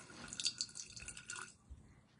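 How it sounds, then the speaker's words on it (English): Water is poured into a container holding dried sourdough starter, about two tablespoons, a short bright trickle and splash lasting just over a second before fading to quiet drips. "you are going to add water to it and about 2 tablespoons"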